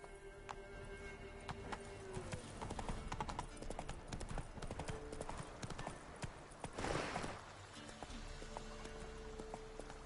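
Horse hooves gallop in steady clip-clop rhythm in the video game The Witcher 3: Wild Hunt, with an occasional whinny, continuous over game ambience and music.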